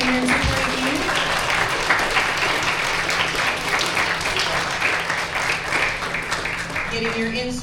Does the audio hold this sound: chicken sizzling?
no